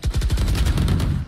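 Rapid burst of gunfire from the video game Valorant, a quick run of loud, close shots in steady succession lasting just over a second.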